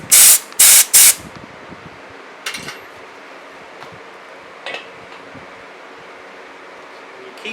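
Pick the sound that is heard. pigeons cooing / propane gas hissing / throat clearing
propane gas hissing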